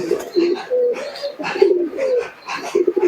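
A male Giribaz pigeon coos up close, giving a series of low, throaty rolling coos in short bursts spaced about half a second apart.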